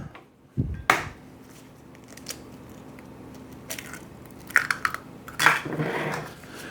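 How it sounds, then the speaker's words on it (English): Two eggs cracked into a bowl for carnivore meatballs, sharp clacks and taps of shell against the rim with a faint drip, close and spaced out, with brief clatters of kitchenware. "we'll crack 2 eggs"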